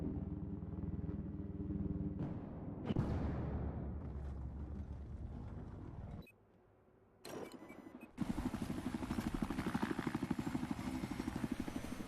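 A military helicopter in the Battlefield 4 shooter game drones and thrums under loud game explosions and engine noise, with a short quiet gap partway through before the heavy rumble returns.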